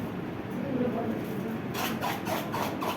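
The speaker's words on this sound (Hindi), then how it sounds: "किस तरीके की आवाज आ रही है? प्लास्टिक।" The plastic back layer of a sanitary pad being rubbed close by, giving a dry crinkly rasping that grows into rhythmic scratchy strokes, with a voice talking underneath.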